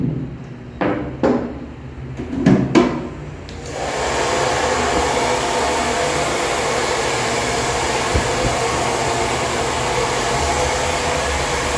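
An electric finishing trimmer buzzes steadily through a barber's haircut, starting after a few short clicks and handling sounds, then running close and even without a break.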